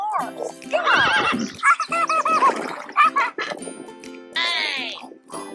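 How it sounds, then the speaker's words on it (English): A horse neighs in a farm setting, a loud, close whinny with a quivering, descending pitch, followed by further brief animal calls and short bursts of sound over several seconds. "a horse."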